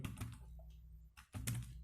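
Keys clack on a computer keyboard in short, quiet bursts of typing, close by, with a brief pause between two runs of keystrokes.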